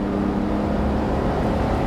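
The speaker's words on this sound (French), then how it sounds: "quand on fait appel au kick-down, comme maintenant par exemple, la boîte rétrograde tout de suite avec beaucoup de simplicité." Six-cylinder engine of a Mercedes-Benz 230 SL Pagode under kick-down acceleration, a loud, steady, low mechanical roar heard from inside the car, droning without pause.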